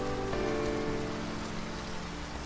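Rain falls steadily, a dense, even hiss of drops on surfaces that stays constant and fairly soft, with no voices.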